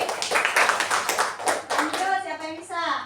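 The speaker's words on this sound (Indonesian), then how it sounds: "Tepuk tangan Bapak Paki." A third-grade class clapping hands together in an Islamic religious education lesson, a brisk run of crisp, rhythmic claps up close that fades as a voice begins speaking near the end.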